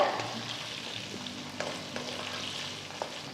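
Drumstick pieces sauté in a pan over a medium flame for sambar, giving a steady, close sizzle with a few soft stirring clicks and no voices.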